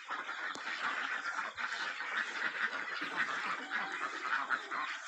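Yi Liang ducks crowd together on a farm, quacking loudly and steadily in a thick, unbroken chorus of many overlapping calls, close by and with no voices.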